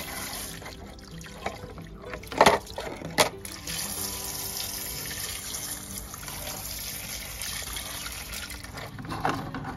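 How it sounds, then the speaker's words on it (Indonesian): Aquarium filter bio media rinsed in water, with steady running and splashing water throughout and a few louder clattering splashes near the start. "jadi ini kita cuci ya, kita kopiok aja dengan air yang tadi itu"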